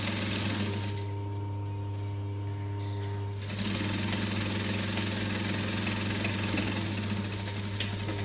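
A sewing machine runs steadily at a 2.5 stitch length while a backpack is being modified, its even mechanical hum continuing close up for the whole stretch and growing slightly louder after a brief shift in tone.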